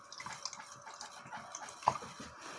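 Tap water trickles and drips into a container while homemade bubble mixture is being made, a soft, close patter of water with one brief, brighter plop partway through and no talking.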